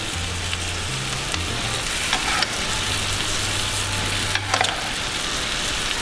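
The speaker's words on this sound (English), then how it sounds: "You want that sizzle, that means it's going to be sealing off really well." Loud, steady sizzling of food frying in a pan, with a couple of brief scraping stirs and a low hum underneath.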